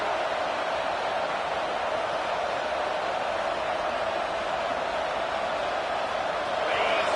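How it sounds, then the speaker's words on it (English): Stadium crowd in an American football video game giving a steady, unbroken roar of cheering that holds at an even level throughout, like a wall of distant noise. "This crowd bringing an ear-splitting welcome to their visitors"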